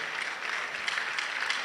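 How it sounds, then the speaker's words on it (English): An audience at a school quiz finale claps for the contestants, a brief steady wash of applause with no talking. "A round of applause for them."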